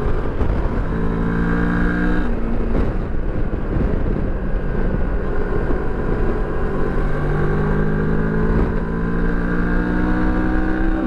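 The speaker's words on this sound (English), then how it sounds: "The motor is very smooth all the way up to redline." A 2023 Moto Morini X-Cape adventure motorcycle engine revving up through the gears on the road, rising and falling tones repeated several times, loud and close with steady wind buffeting, no talk.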